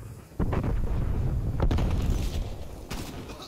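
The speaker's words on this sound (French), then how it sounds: "Je lance une grenade." A grenade is thrown in the video game Call of Duty: Cold War, and a loud burst of gunfire and explosion-like booms follows, with a heavy impact near the start and another crack near the end over a dense, noisy game mix.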